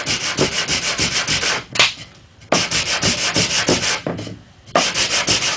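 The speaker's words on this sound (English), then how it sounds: "So sand it." A wooden plug on a ready-to-assemble Adirondack chair is sanded by hand, rhythmic rasping back-and-forth strokes in close, loud bursts separated by two short pauses.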